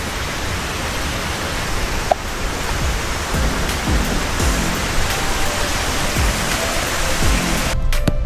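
Light rain falls near Golden Waterfall in Taiwan, a steady broadband hiss of drizzle and rushing water with scattered drop impacts, continuous and fairly loud, ending in a brief rustle.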